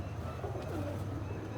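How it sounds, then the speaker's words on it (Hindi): A pigeon perched up high on a rooftop at night gives a short, soft, rolling coo at middle distance, set against a low, steady background hum. "ये आया है जी एक कबूतर ऊपर"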